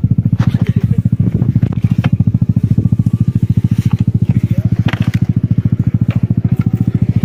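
Trail motorcycle engine idling and running close by on a long-distance touring ride, a loud, steady rapid thumping pulse with rattling mechanical clatter and occasional sharp crackles.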